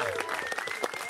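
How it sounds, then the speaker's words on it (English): A live audience at a Founder's Day comedy event gives a round of applause, a brief, dense burst of clapping with crowd voices and whoops mixed in. "Let's get a big round of applause for Ice Cream Social."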